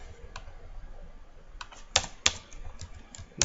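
Typing on a computer keyboard, a few scattered keystrokes with two sharper clicks in the middle, close and fairly quiet.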